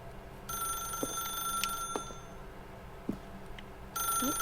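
A telephone rings in the video game The Stanley Parable: a bright, electronic ring that starts, cuts out, then starts again near the end, over quiet room tone with faint clicks.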